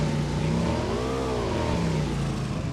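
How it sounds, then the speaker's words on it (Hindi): A motorbike engine revs in the PUBG Mobile video game on the Miramar map: a loud, continuous motor drone whose pitch swells up and then eases back down. "अब मैं बाइक लेके यहाँ से जाने की सोचता हूँ"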